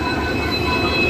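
A Konkan Railway passenger train standing at Ratnagiri station gives off a steady, loud rumble with a metallic wheel squeal running over it, continuous and close by.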